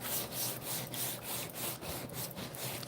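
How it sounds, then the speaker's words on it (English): A sanding block rubbed over a journal cover made from an empty food box, giving rhythmic back-and-forth scratchy strokes, close and steady, with no talking. "All right, now sanding block."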